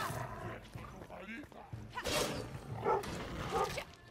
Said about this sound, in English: Dogs. Oh god, they're all coming.